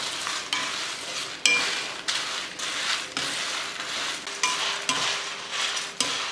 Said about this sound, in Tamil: ஒரு கடாய் வச்சுட்டு நல்லா சூடானதுமே மல்லி, வரமிளகாய் 2 ஒன்றா போட்டு வறுத்துடலாம்